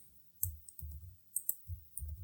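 Light keyboard typing on a computer, about five quick clusters of soft clicks at an uneven pace, close and quiet, no voices.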